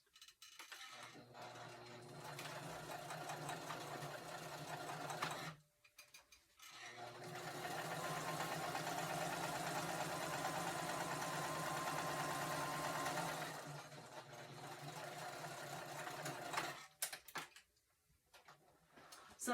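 A sewing machine stitches an apron in two long runs of steady, whirring mechanical rhythm, with short pauses between bursts and a few faint clicks as it stops, heard close up and moderately loud.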